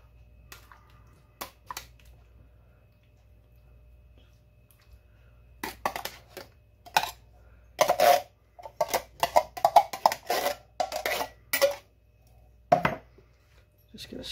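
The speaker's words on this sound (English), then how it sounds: "All right, so now I'm gonna put some chili beans in there." Chili beans are spooned over ground beef in a casserole dish at home, giving a run of close, wet squishy plops and light spoon clicks that come in quick irregular bursts after a quiet start.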